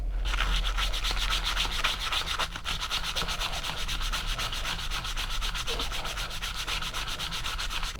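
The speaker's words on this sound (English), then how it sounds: "probably just going to sand it by hand for now" Hand sanding a Fairbairn-Sykes style fighting knife, steady rapid back-and-forth rasping strokes of abrasive on the blade, loud and close, continuous for the whole stretch.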